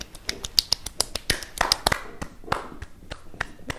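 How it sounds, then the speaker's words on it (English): Close, crisp hand claps in an ASMR setting, a series of irregular sharp claps and snaps, near and distinct with quiet gaps between them. "Let me clap my hands like this."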